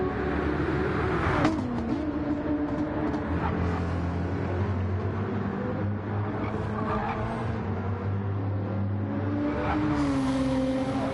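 Race cars howl around Interlagos in a racing video game, several engines droning and shifting pitch together in a loud, continuous roar, with a gear change near the start and another near the end.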